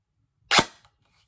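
An airsoft M4 fires a single semi-auto shot, giving a sharp, close crack that decays quickly, followed by a faint mechanical click in otherwise quiet surroundings.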